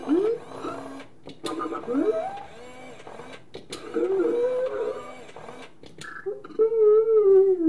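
A Star Wars BB-8 talking toy figure, 9.5 inches, rotates with whirring motor noise broken by short pauses, then gives a series of chirpy, warbling electronic droid beeps that grow louder near the end, heard alone at close range.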